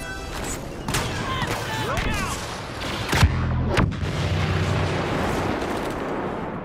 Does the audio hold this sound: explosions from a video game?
yes